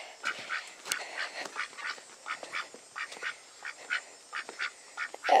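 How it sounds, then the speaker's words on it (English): Ducks quack in a rapid, uneven series of short calls, close and clear, with no talking over them. "Hello, ducks."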